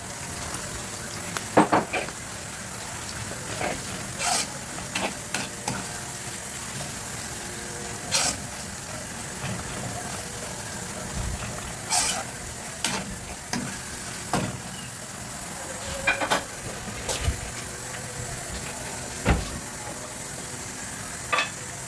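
Chicken pieces frying in a pan for sotanghon, a steady close sizzle with repeated scraping and stirring clicks throughout, no voices.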